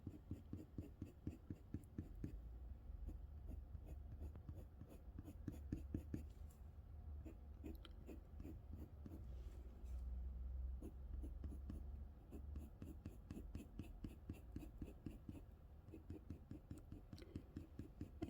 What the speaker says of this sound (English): As I'm putting these pencil strokes on paper, I can see that I make the strokes a little bit too long.